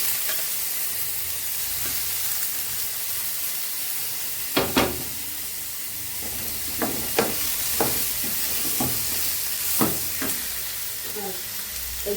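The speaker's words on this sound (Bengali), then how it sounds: "বন্ধুরা দিয়ে দিচ্ছি এখন টমেটো কুচি।" Chopped tomato sizzling in hot oil in a pan for fish egg curry, a steady close frying hiss with several sharp spoon knocks and stirring scrapes against the pan.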